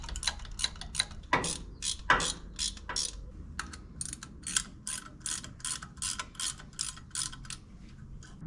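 Main bolts are tightened on a serpentine conversion kit for a Gen VI 454 engine, giving quick repeated ratchet clicks in steady rhythmic bursts, close and fairly quiet.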